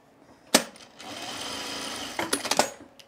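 A sewing machine stitches cargo shorts in one steady whirring run of about a second, framed by sharp clicks and clatters of the machine being handled before and after.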